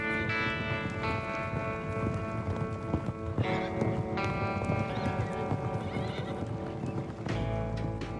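Horses at a wild horse sanctuary, hooves clip-clopping steadily with repeated neighs and whinnies, close and fairly loud with no talk over them.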